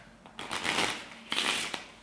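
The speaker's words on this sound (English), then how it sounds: "Real shuffle." A deck of playing cards is shuffled up close during a card magic trick, with two quick, crisp riffling bursts separated by a short pause.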